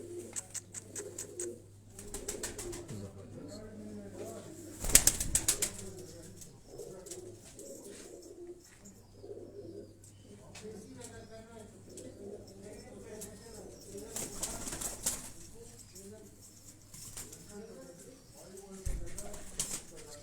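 Aseel and Bater (quail-type) pigeons coo steadily in soft repeated rolls, with a brief burst of wing flapping, while someone talks over them at times.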